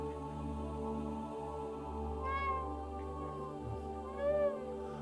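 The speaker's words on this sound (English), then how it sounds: "Sounds like a cat." Two drawn-out, rising and falling meows from a cat, the second louder, sound over a steady low hum and background drone.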